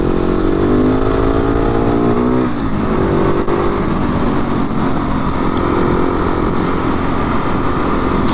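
A KTM 690 SMC R supermoto's single-cylinder engine drones loud and close while riding, pitch climbing then dropping with a gear change before settling into a steady rough roar.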